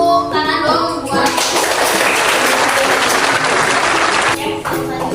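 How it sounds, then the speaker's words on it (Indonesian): A group bursts into loud, dense clapping during a spoken lesson, the applause swelling for about three seconds before fading as a voice resumes talking on either side. "Tepuk tangan dong buat."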